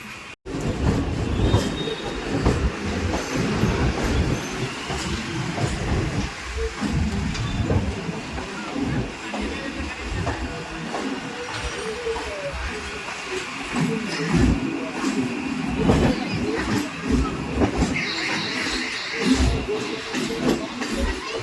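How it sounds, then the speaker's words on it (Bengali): A Kolkata circular railway train rolls into Dum Dum station, a long rumbling ride with clattering wheels, occasional squeals and brake hiss, loud and steady from on board, with brief voices in the background. "ট্রেন এখন আমাদের ঢুকছে দমদম স্টেশনে"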